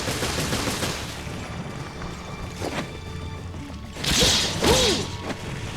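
Gunfire crackles in the game Resident Evil Revelations Raid Mode, with the character Chris using a machine gun; sharp bursts and impacts come in quick clusters, loud and close, over a busy game background.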